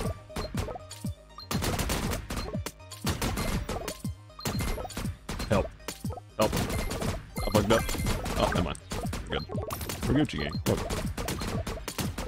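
Rapid cannon barrages firing in the arena shooter Geometry Arena 2, a dense, loud stream of booming blasts and crashing impacts that keep rolling throughout with hardly any pause.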